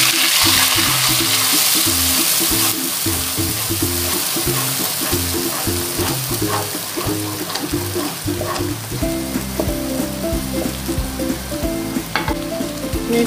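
Dried shrimp, shallots, garlic and chili paste sautéing in hot oil, a steady loud sizzle and crackle with stirring scrapes throughout, backed by tonal music.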